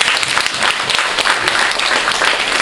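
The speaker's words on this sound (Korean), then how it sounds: "박수 한번 합시다." A church congregation bursts into loud applause during a sermon, a thick, continuous wash of many clapping hands that stays strong and even for a couple of seconds, with no talking on top.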